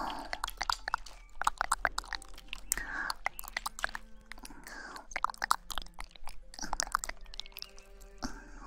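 Crunchy chewing of cucumber close to the mic, a steady run of crisp bites and mastication sounds with soft wet squishes between them, intimate and quiet throughout.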